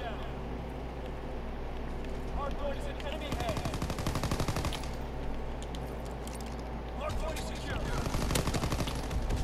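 Rapid machine-gun and rifle fire in a World War II shooter during ranked Hardpoint play, with close, loud bursts that cluster in heavy volleys. Footsteps and game noise run underneath, and there are scattered distant shots.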